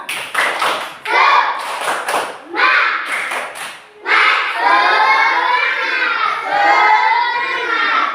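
Children in a classroom clap rhythmically in bursts, then break into loud group shouting and cheering together, close and lively indoors.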